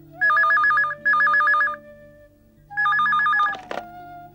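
A telephone bell rings in a Telugu TV serial scene, three clear trilling bursts with short pauses between them, loud and close, with a faint bump of handling noise at the end.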